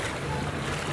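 Strong floodwater rushing and churning into a residential compound in Barangay Singcang, Bacolod City, a steady broadband roar that fills the clip without letup, close and loud, with no talk.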